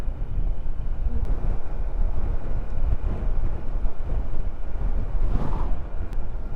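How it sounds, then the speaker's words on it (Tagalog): Strong sea waves crash and surge against a shore beside a coastal road, a loud, continuous broadband roar mixed with heavy wind buffeting the microphone, with no talking. "Grabe ang lakas ng alon."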